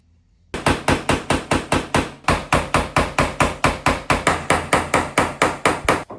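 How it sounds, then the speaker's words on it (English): A hammer drives a small chisel to knock tile off a stone bathtub surround. The strikes are sharp, loud and close, in a steady run of about four blows per second with one short pause, and no one speaks. "There are different methods to removing tile, but I like to use my little chisel and a hammer."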